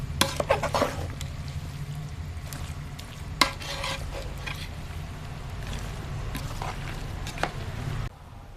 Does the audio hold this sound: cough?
no